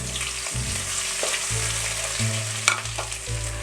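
Half a teaspoon of white cumin, a tablespoon of ginger and a tablespoon of javelin-cut garlic sizzle steadily in hot oil for bathua saag, with occasional spoon scrapes and stirring clicks close by.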